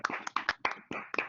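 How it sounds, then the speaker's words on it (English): Only a few people clap at a pre-departure orientation session for Erasmus Mundus students, giving about eight separate, uneven hand claps spaced over a little more than a second, fairly close and moderately loud, with no crowd wash behind them. "give a big round of applause for the organizers, Anna, and all the Erasmus Mundus members who have arranged this session for all of you"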